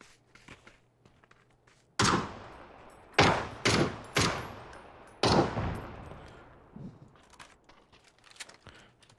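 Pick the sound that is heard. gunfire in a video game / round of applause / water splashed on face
gunfire in a video game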